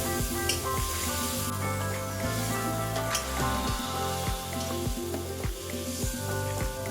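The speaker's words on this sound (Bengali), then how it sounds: "কড়াইটা পুরো তাতিয়ে এলে এর মধ্যে মশলার পেস্টটিকে দিয়ে দিন। এরপর ভালো করে নেড়ে ঘেটে ফ্রাই করে রাখা আলুগুলো দিয়ে দিন।" Spice paste and fried potatoes sizzle and spatter in a hot wok, giving a steady, busy frying hiss with scattered pops over tonal background music.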